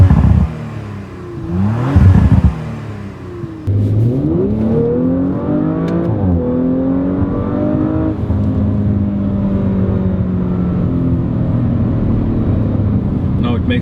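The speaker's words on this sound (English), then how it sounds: "I opened the window and the door to see if the noise will be a bit better from that exhaust." An Audi RS5 engine revving through its exhaust, heard from inside the car with window and door open: loud rising and falling revs, a sharp blip early on, then sustained climbing engine tone through the gears.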